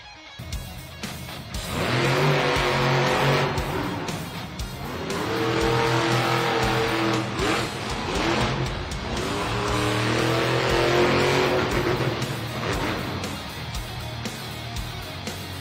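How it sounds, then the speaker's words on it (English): Monster trucks race in an arena at a Monster Jam event in Las Vegas, their loud engines revving and roaring continuously for the whole stretch, with rising and falling pitch over a wide arena wash. "he is looking for his third racing win on the weekend from Ogden, Utah, Mike Christensen, Vendetta"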